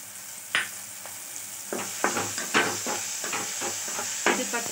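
Ginger garlic paste frying in a pan with softened onion and tomato for black chana masala, a constant sizzle punctuated by repeated rhythmic spatula scrapes and taps, close and loud without talk.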